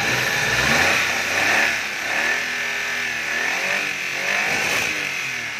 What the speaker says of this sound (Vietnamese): Máy đang hoạt động nè.